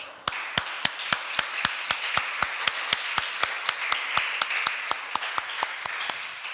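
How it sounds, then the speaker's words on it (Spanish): A church congregation claps in a steady, rhythmic unison beat, sharp evenly spaced claps repeating about three times per second over a continuous bed of scattered clapping, fairly close and loud. "Damos un aplauso a Dios."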